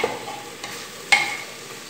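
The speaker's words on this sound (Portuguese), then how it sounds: "Eu dei uma sacudida aqui, ó. Pra pegar todos os temperos, né?" Chicken fries with seasonings in a pan, a soft steady sizzle broken by a few brief scraping stirs and one sharper clatter as the pan is shaken, close and without talking.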